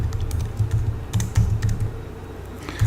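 Keys clatter on a Commodore computer keyboard in a steady run of close, fairly loud keystrokes, with short pauses between bursts and no one speaking.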